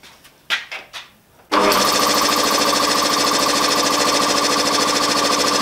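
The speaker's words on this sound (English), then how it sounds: "It's a bit of a slow going air compressor, but let's give it a go. Turn it on." A few handling knocks come first, then a small, slow air compressor in a home shed starts abruptly and runs loudly and steadily close by, its motor driving the pump with a rapid rhythmic chugging.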